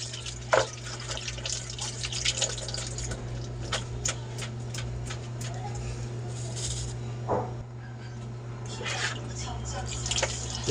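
Tap water running and splashing in a kitchen sink while milkfish is cleaned, with intermittent drips, taps and knocks of handling close by, a person speaking at times.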